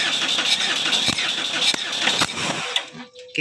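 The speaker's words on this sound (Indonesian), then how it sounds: "Kita coba starter lagi." The starter cranks a Mitsubishi Strada Triton GLS diesel engine after an injector nozzle swap, giving a loud, rough, continuous churning with rhythmic knocks that cuts off near the end, and someone speaks briefly.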